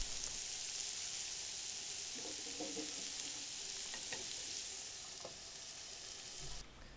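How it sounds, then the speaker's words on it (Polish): Diced onion stews under a lid on low heat in a frying pan for spaghetti bolognese, giving a quiet, even hiss with a few faint bubbling pops and no voices. "Równomiernie rozprowadzamy na patelni i dusimy pod przykryciem na wolnym ogniu."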